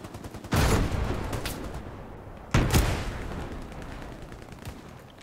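Two loud, close gunshot blasts in the Hell Let Loose war game, about two seconds apart, each followed by a long rumbling echo that fades out.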